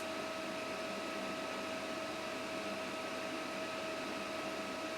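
Home fat-freezing cool sculpture device running its suction at minus 10 degrees Celsius, giving a steady, even mechanical hum with a faint whine, close and constant.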